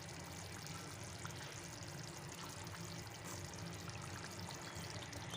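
Water pours in a steady, faint trickling stream into a turmeric masala for a korma, a soft continuous splash with no speech.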